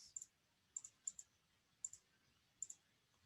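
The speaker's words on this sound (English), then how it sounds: "I'm clicking here." Quiet, close computer mouse clicks, mostly in quick double pairs spaced about a second apart, during lab work in the Eclipse programming environment, with no speech.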